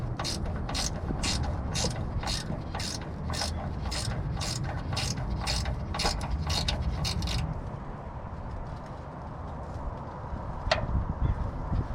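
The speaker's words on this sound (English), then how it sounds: "the way I'm going to support it is going to be by putting the jack underneath it and just jacking it up" A jack clicks and ratchets in quick, regular pumps while raising a Cadillac DeVille transmission, the mechanism close and clear for several seconds before falling quiet into low background rumble.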